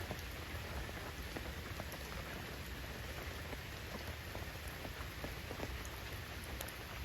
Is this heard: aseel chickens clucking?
no